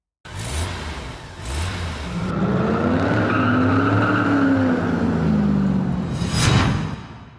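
A 2018 BMW 335d Touring (F31) diesel wagon sets off for a drive. A couple of sharp clicks come first, then the engine catches and holds a loud, steady drone whose pitch rises and swells as it pulls away.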